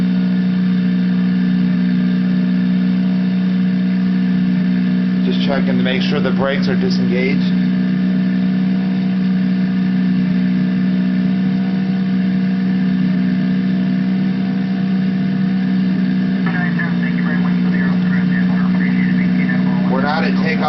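Cessna 172 engine in a flight simulator game holds a steady loud drone at full throttle through the takeoff roll, running continuously while someone talks over it in two short bursts.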